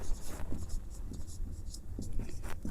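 Chalk or marker scratching across a classroom board during a physics lesson, short bursts of strokes repeating irregularly at close range, with faint background room noise.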